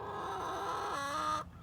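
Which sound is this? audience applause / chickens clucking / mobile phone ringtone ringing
chickens clucking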